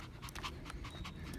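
A dog panting after a walk, quick steady breaths in an even rhythm, faint and close with no talking.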